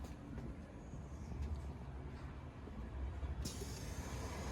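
Inside the Doğu Ekspresi passenger train, a constant low rumble of wheels on rails fills the carriage, fairly quiet and even, with a brighter hiss rising near the end and no one speaking.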